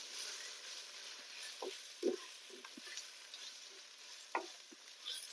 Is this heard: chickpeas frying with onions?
yes